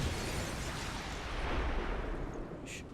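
A frag grenade blows up in the tactical game XCOM 2: a loud, broad rumbling blast that fills the whole clip and slowly fades, with a brief higher ping near the end.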